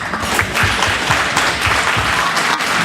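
Applause at a county FFA alumni livestock show for a young exhibitor in a youth sheep class, a steady patter of clapping from a crowd that is moderately loud and close.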